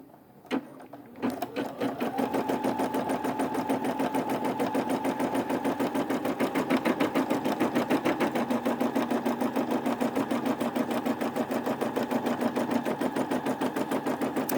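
A Brother SE600 embroidery machine stitches a snap tab on a repositionable hoop, starting with a click and then a steady, rapid mechanical hum and needle rhythm running close and unbroken.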